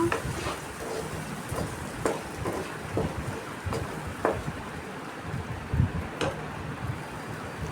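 Onion and green chili paste frying in oil for a brinjal and chana dal fry, giving a steady low crackling sizzle with scattered sharper pops and stirring clicks throughout, with no talk.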